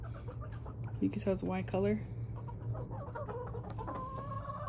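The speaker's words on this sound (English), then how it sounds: "Do we have my rooster right there?" A backyard rooster clucks in a short run of bright, stuttering calls near the microphone, with a person talking over and after it.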